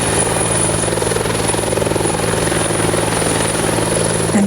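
A Bell 412 helicopter during a military demonstration with troops rappelling out, its rotor and turbine roar loud, steady and close for the whole stretch, with a constant whine above a thudding blade beat.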